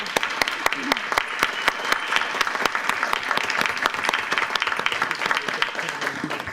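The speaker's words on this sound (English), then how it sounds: "Can we please give her a round of applause?" Audience applause at a school board regular meeting, a dense, steady clapping from a roomful of people that lasts the whole stretch at an even, fairly loud level with no talk over it.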